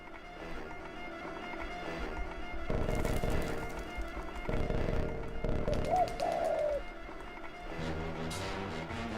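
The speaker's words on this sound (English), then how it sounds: "there's the last pigeon" Pigeons coo in the Jazzpunk video game, a wavering call heard once over a busy bed of music and game effects, moderately loud amid the clutter.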